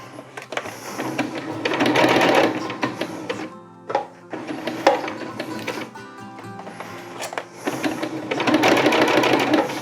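A sewing machine stitches along the edge of a tarp in loud, close, rapid mechanical runs, with three bursts of stitching separated by short pauses.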